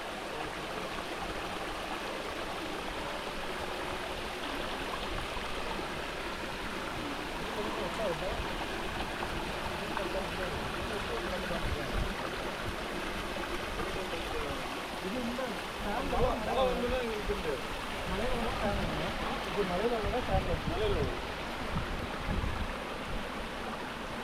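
Mountain stream on a hill trek at Villukkuri in Kanyakumari, with water from the slopes collecting and flowing down: a continuous, even rush of water close by that holds at a steady level throughout.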